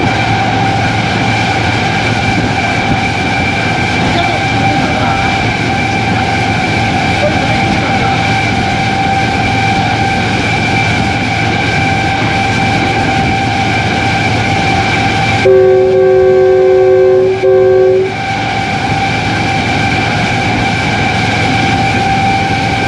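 A Pakistan Railways locomotive runs steadily, giving a loud, continuous drone with strong engine hum throughout. Near the end a sustained multi-tone horn blasts for a few seconds before the running noise continues.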